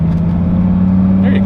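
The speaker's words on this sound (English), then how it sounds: "You can go ahead and accelerate a little harder." A Dodge Viper with a manual transmission pulls harder under acceleration, its steady low engine drone loud and close throughout, with a slight rise near the end and voices talking over it.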